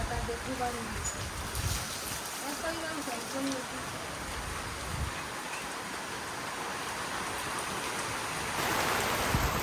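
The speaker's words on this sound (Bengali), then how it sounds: "তো মোটামুটি ভালো বৃষ্টি নামলো" Steady heavy rain pours down across a rural Bangladeshi homestead, a dense continuous hiss that builds louder near the end, with a person talking intermittently over it.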